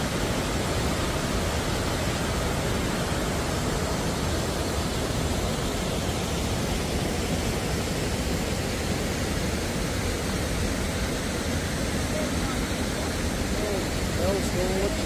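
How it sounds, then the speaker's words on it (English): Waterfall at Bells Gorge heard from its base, a loud, steady, broadband roar of falling and splashing water that fills the whole clip without pause. "There's the bottom of the waterfall."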